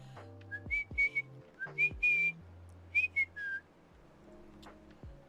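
A person whistles short bright notes in a choppy pattern of quick chirps and brief held tones, broken by pauses, over low background music.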